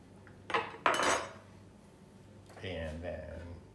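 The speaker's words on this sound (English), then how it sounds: "So just give it a little stir." A spoon stirs a gin and tonic in a glass, giving two quick clinks close by, followed by a voice speaking.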